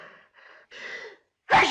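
Person sneezing in a 1939 film: a few quick gasping inhales building up, then one sharp, loud sneeze burst at the end, close and with no talking.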